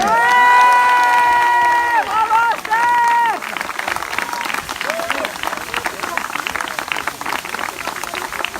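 Crowd at a trail race awards ceremony applauding and cheering, a dense patter of clapping with shouts rising after an announcer's amplified voice fades out in the first few seconds.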